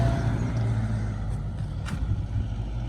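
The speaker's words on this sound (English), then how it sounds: "excuse the car, there must be a diversion" A car passes along a lane beside a rose garden, its engine a low steady rumble and tyre roar holding close and fairly loud throughout, with a faint hiss of breeze and no talking.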